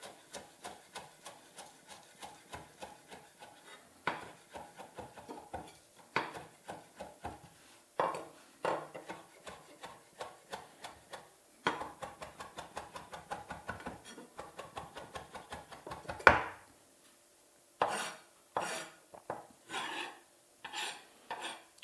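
A knife chops fresh home-grown chives for rösti on a board, quick runs of crisp, close taps broken by short pauses, with a few louder knocks near the end.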